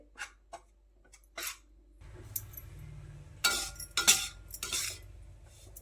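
Semolina roasting in ghee in a pan is stirred with a spoon, giving soft, irregular clinks and scrapes against the metal over a low background hum, fairly quiet throughout.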